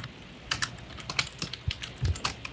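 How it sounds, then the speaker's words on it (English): A computer keyboard clatters with loud, close typing, a rapid irregular run of sharp key taps with a few heavier thumps, no voices. "your typing is extremely loud"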